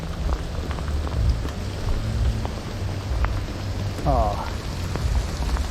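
Rain pours steadily onto a surface during a fishing trip, a dense close patter throughout, with a brief exclamation from a man partway through.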